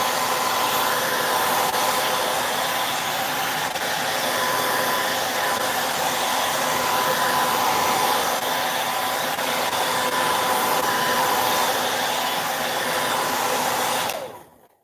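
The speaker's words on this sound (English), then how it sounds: "I have a hairdryer here, so we're going to have momentary noise" A hair dryer blows continuously at close range, drying a craft mold with a loud, steady whoosh and motor whine for about fourteen seconds before it switches off and fades out.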